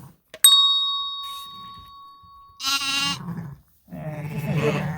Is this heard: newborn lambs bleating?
yes